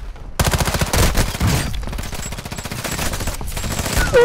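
Rapid automatic gunfire from a Call of Duty: Modern Warfare III match, loud and sustained bursts of shots rattling continuously for several seconds with brief gaps, no talking.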